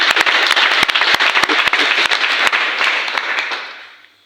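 A church congregation applauds loudly and close, dense clapping with sharp individual claps that fades out over about four seconds.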